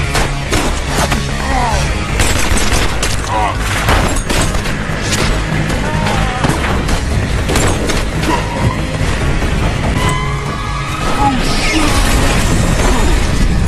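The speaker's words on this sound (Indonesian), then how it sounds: "Lalu tiba-tiba salah satu mobil pengawal meledak, disertai dengan tembakan beruntun dari pasukan teroris tersebut, sehingga baku tembak pun terjadi." A terrorist attack scene in a film, where an escort car explodes amid bursts of rapid gunfire, fills the clip with dense, continuous booms, cracking shots and shattering crashes throughout.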